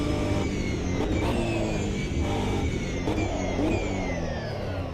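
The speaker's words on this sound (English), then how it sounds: "Much more realistic BMW engine sound" A BMW race car engine in Automobilista 2 revs hard at Monza, cycling through several rising pulls and quick upshift breaks over a few seconds, loud and close with no talk.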